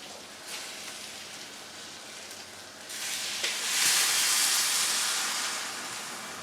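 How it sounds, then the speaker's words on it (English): Boiling water pours steadily into a pot with a rushing hiss that swells louder midway, then eases slightly, with no voices. "we go in with 2 litres of boiling water"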